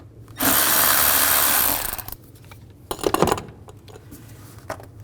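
A worm clamp on a GMC Yukon intake is loosened with an 8mm socket, marked by one loud, sustained mechanical whir of just over a second, followed by fainter rattling handling sounds.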